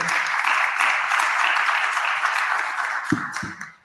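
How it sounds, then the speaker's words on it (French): Applause from a conference audience at a construction-technology event, thanking a speaker: a dense burst of clapping at close range that fades out near the end. "Je pense qu'on peut l'applaudir"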